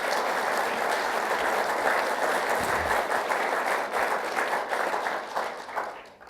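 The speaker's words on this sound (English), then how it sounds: "May we have one round of applause for everybody." Audience applause at a National Press Club luncheon, a full room clapping steadily from start to finish and easing slightly at the end.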